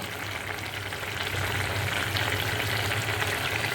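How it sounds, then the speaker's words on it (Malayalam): Curry bubbling on the stove in a pan, a soft continuous sizzle and simmer that swells slightly partway through, close and steady with no voices. "ഇതാ ഇത് നല്ലോണം തിളച്ച് വന്നിട്ടുണ്ട്"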